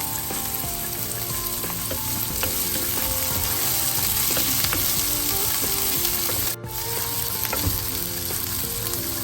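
Onion frying in a pan with green chillies and fenugreek for a curry, a loud, continuous sizzle with occasional stirring scrapes and no talking.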